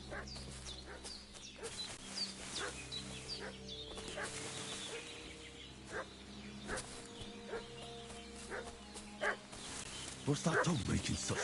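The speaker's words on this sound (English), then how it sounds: "What's that dog making such a fuss about?" A dog barks and fusses at a rural homestead in Kingdom Come Deliverance 2, with repeated barks over steady outdoor ambience, chickens clucking nearby and a louder flurry near the end.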